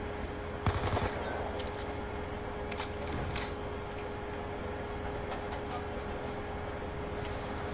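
Scattered bursts of gunfire in Black Ops 2 Zombies on the TranZit map, fairly faint and set against a steady low hum, with a few sharp shots grouped early and more popping sporadically later.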